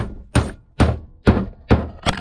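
Five heavy thuds from hammering on car suspension arms land at roughly half-second intervals, each a loud knock with a brief low rumble, close by and with no voices, as a camera falls over.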